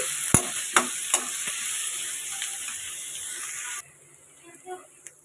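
Onions with coriander and curry leaves frying in oil for an egg curry, a soft steady sizzle with a few sharp stirring knocks early on, then the frying noise drops away to near quiet.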